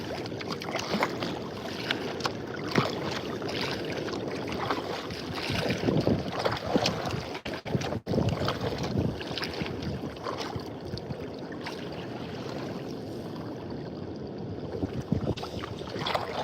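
Kayak paddling on open salt water in wind, a continuous rush of wind and water with soft paddle splashes, heavy microphone buffeting and no speech.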